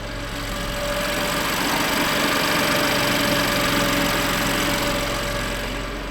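A 2021 BMW M2 CS Coupe engine idles steadily at close range, a continuous low rumble with a faint mechanical hum and no voices.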